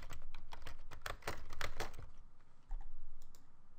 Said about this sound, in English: you can type in some basic messages